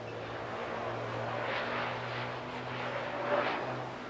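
A Pitts aerobatic plane flies display manoeuvres at the Bournemouth Air Festival, heard as a faint, distant propeller drone that swells and fades gently over a few seconds.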